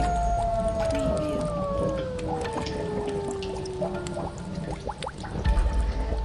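Dogs and jackals howl in a spooky effect set around a haunted jungle bungalow. One long, falling howl is layered with shorter cries over a dense, eerie background, with a voice speaking.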